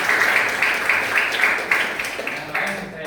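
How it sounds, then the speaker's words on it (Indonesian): A classroom of students applauds together, a dense wash of claps that holds steady for a few seconds with no talking over it. "Beri tepuk tangan dong."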